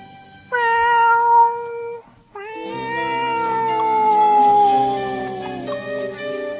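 A small child imitates a cat's meow, two drawn-out, wavering mewing calls, the second longer and sliding downward, sung clearly and close with no other voices.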